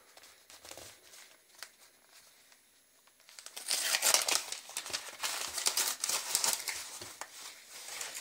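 Plastic wrapping on a pack of toilet paper made in Zaporizhzhia, Ukraine, crinkles and tears open. It starts with faint rustling, then turns into loud, continuous crackling and crumpling for the rest of the clip, with no voice.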